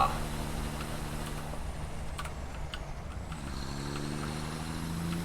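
6x6 truck in the video game Satisfactory, a steady low engine drone with a hiss resembling an air brake and a rising rev near the end, heard under background noise.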